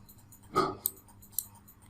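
A computer mouse clicks while opening a connection to an AWS EC2 instance: a broad thump near the middle, then two short, sharp clicks spaced about half a second apart, close and moderately loud over a quiet background.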